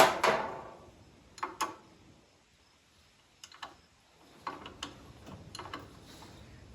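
Metal wrench ratcheting on a vehicle battery terminal during farm work, a few bursts of quick clicking with pauses between, close and fairly quiet.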